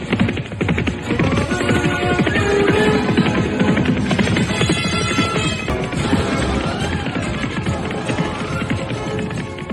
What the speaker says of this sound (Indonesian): Kuda-kuda itu berderap melewati gerbang barat, meninggalkan debu yang mengepul.